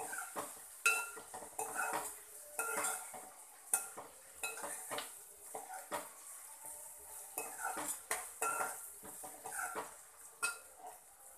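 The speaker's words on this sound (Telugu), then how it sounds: "ఇది మొత్తం ఒకేసారి పోపుతో కలిసేలాగా కలుపుకొని," A spoon stirs drumstick and potato pieces with tempering in a pan, giving irregular scraping and clinking strokes over a soft sizzle, close and moderately quiet.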